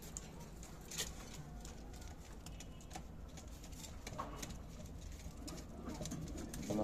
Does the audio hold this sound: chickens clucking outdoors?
no